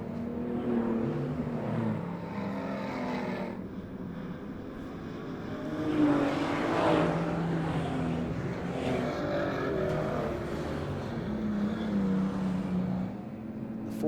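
Several race cars circulating on a speedway oval, their engines droning at a moderate distance with a continuous layered roar that swells as the pack passes nearer and then fades slightly.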